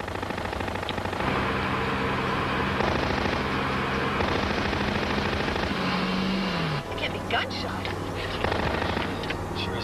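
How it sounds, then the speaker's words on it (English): Gunfire crackles on a city street, a dense burst of distant shots and rattling fire mixed with traffic and crowd noise, loud throughout with voices underneath. "Gunshots. Sure as hell can be."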